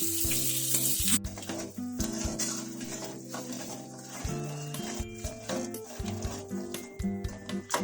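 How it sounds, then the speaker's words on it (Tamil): Ground ginger and tamarind paste stirred in a hot pan for ginger pickle, with a sizzle under repeated scrapes and knocks of a utensil against the pan, some of them sharp, and a faint bird call in the background. "இதுலயே நம்ம அரைச்சு வச்சிருக்கிற இஞ்சும் புளியும் சேர்த்துக்கலாம். நல்லா கிண்டி விட்டுக்கலாம்."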